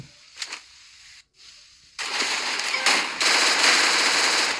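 Gunfire in the Free Fire battle royale game comes in rapid automatic bursts. A faint shot opens the clip, then after a brief gap a loud, dense volley runs on, with a sharper crack partway through.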